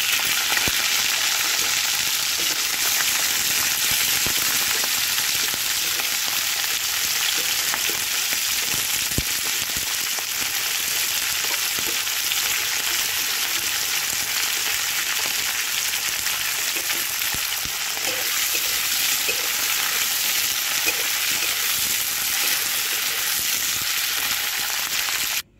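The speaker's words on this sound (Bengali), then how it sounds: "এবার আর একটু তেল দিয়ে আমি পেঁয়াজ কলিটাকে ভেজে নেব।" Onion stalks fry in hot oil in a pan, giving a loud, continuous close sizzle that holds steady throughout with only faint occasional crackles and no voices.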